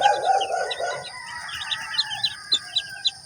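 Small 45-day broiler chickens clucking and chirping nearby, a cluster of short bursts with louder isolated clucks toward the end, over faint background hiss.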